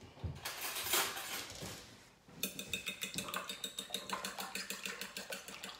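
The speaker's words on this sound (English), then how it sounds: "Okay, and then we're gonna mix that up." Seasoned ingredients whisked or stirred in a bowl, a steady run of quick rhythmic scraping taps close by after a brief noisy stretch.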